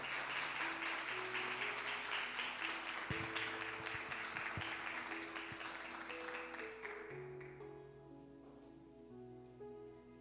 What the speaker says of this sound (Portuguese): Saúde a igreja com a paz, com a salva de palmas.